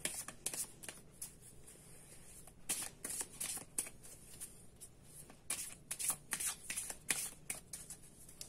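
A deck of angel cards is shuffled repeatedly in quiet, rapid riffling bursts with soft flutters between them, close and faint, with no talking.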